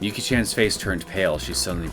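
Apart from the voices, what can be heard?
No distinct noise like a dog, phone or traffic.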